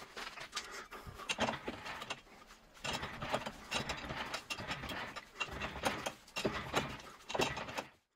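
Indexing a cylindrical workpiece round by 3 degrees between cuts while making square knurling grooves without a knurling tool, giving bursts of close mechanical clicking and grinding with short pauses between them.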